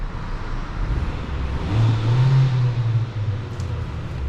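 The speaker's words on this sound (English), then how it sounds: "when you rev it in neutral, it just doesn't feel that loud" A Forthing T5 EVO, parked, gets a short throttle blip: the engine swells from a low idle into a moderate rev, holds briefly, then falls back, heard close over a steady background hum.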